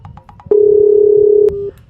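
A phone ringing while calling a girlfriend's number: a few short dial beeps, then one loud, steady ringback tone lasting about a second, followed by a brief quieter repeat over low background noise.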